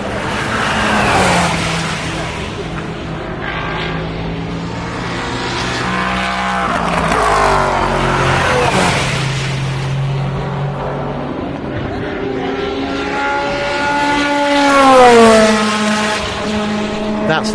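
Race cars, including a Toyota Le Mans prototype, roar past one after another at Le Mans, their engine notes rising and falling as they approach and fade away, loud and continuous.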